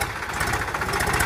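A Sonalika or Powertrac 50-60 hp tractor diesel engine idles at slow speed, a loud, steady, close-up chugging rumble with rapid regular pulses and no speech.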